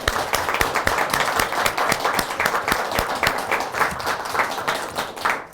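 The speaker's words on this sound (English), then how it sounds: "Please join me in another round of applause for our presenters." An audience at a research lecture applauds steadily, many hands clapping in a dense, continuous patter at close range without pause.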